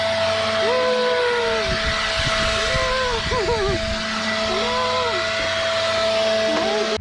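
Leaf blower clearing cut grass in a front yard, a steady motor drone running throughout with a humming whine on top, while people talk over it.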